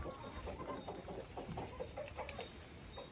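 Chickens in an outdoor run give a series of quiet clucks at a distance, spread over a few seconds with faint background noise and no voices.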